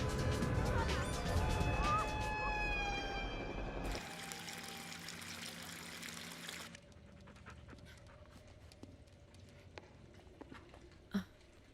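Water pours and trickles steadily in a tense horror-film scene, mixed with panting, a low musical drone and other background sound, with a sharp knock near the end.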